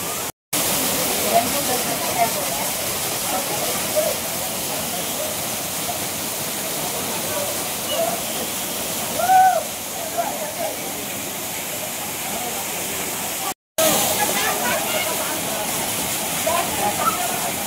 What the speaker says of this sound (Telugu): 50 feet హైట్ నుండి వాటర్స్ పడుతుంటాయన్నమాట